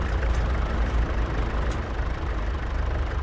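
A farm vehicle's engine idles steadily in Farming Simulator 22, a continuous low rumble with no breaks, close and fairly loud throughout.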